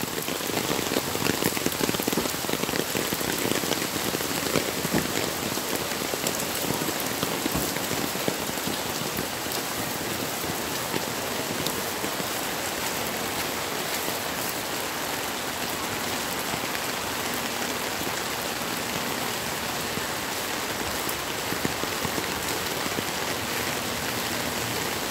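Heavy rain pours steadily onto surfaces and into a drainage channel in the Philippines, a dense, unbroken hiss that stays loud and constant throughout.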